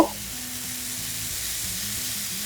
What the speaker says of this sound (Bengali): একটা লোহার চাটুতে অল্প একটু তেল মাখিয়ে নিয়ে 2 টেবিল স্পুন মতো ব্যাটারটা এর মধ্যে দিয়ে আমরা প্রথম উত্তাপামটা বানিয়ে নেব